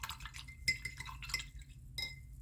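A paintbrush is rinsed in a small water pot while painting a frost giant miniature, giving light clinks and gentle watery taps against the pot in a few short separate bursts over low background hum.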